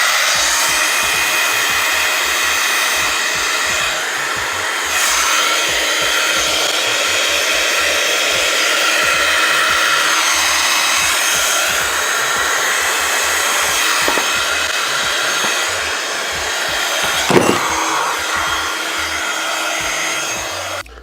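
A hair dryer blows steadily and loudly for about twenty seconds to dry a handmade card, a continuous close whoosh with only slight shifts in tone and a brief knock near the end.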